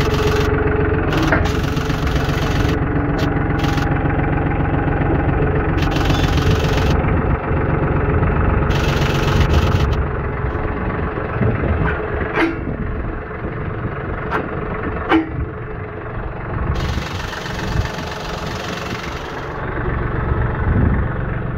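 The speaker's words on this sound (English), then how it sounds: "So let's head out to the barn and get the tractor out" A farm tractor engine idles on a goat farm, a close, steady low chugging drone with a knocking rhythm that runs for about twenty seconds, with a few brief clanks and a slight dip in level partway.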